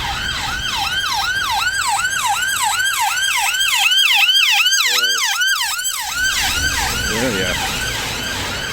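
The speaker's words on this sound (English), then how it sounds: "you should have waited and let the ambulance pass" An ambulance siren wails in a steady, rapidly repeating rise-and-fall pattern as it passes through Skeoch Roundabout in Stirling, Scotland, loud and close, with faint road traffic underneath.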